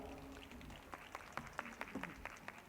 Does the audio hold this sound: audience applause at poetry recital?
yes